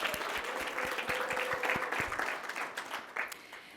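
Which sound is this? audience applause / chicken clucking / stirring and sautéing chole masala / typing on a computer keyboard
audience applause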